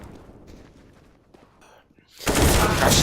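Gunfire from Counter-Strike: Global Offensive in a competitive esports match, starting as a quieter stretch of scattered shots under a caster's voice, then erupting into a loud, dense burst of firing for the final second.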